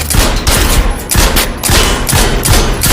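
Loud gunfire rings out during shooting practice in a film, with rapid bursts of shots cracking in close succession in an uneven rhythm that runs through the whole moment.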